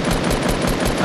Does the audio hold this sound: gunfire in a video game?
yes